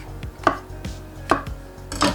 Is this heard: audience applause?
no